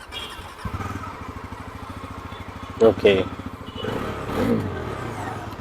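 A 2025 Bajaj Pulsar NS400Z starts up and idles with a close, rapid, even engine pulse, broken by a short burst of revving midway and a short spoken word.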